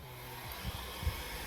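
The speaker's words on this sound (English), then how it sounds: "Now I'm using a heat gun, but a hair dryer would work just as good." A heat gun blows hot air onto vinyl, giving a steady broadband airflow hiss at fairly low level, with a few soft low thumps of handling.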